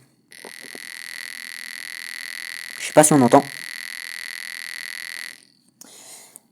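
A steady high electronic buzz drones for about five seconds; a voice speaks briefly over it partway through, then it cuts off.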